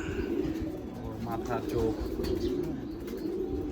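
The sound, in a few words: Kittel pigeon cooing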